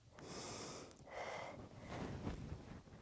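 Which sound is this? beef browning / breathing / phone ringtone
breathing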